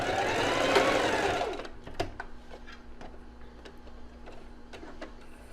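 A domestic sewing machine stitches lace, whirring loudly and steadily for a second and a half, then slowing to quieter, sparse mechanical ticks and clicks with a faint hum underneath.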